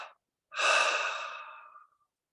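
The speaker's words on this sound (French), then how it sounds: "Une grande inspire par les narines. Et 3 expires par la bouche et le nez." A short breath is followed by a long, steady exhale that fades out, close and alone in a quiet guided-meditation setting.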